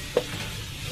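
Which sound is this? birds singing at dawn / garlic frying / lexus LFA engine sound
garlic frying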